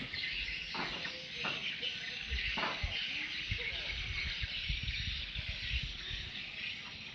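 Many birds chirp and twitter continuously in the background at a bird nest farm in Sumatra, Indonesia, with a few sharper calls standing out over a constant noisy ambience.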